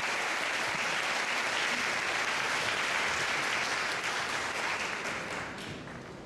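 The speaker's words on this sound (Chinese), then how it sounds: "来请起立，请给他们掌声好吗？" A hall audience applauding young Taiwanese music makers as they stand to be recognised: dense, steady clapping throughout that fades gradually near the end.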